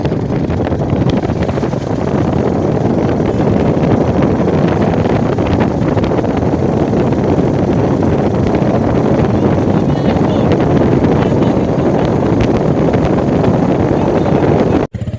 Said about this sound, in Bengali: এরপর বাইক চালাই যাচ্ছে।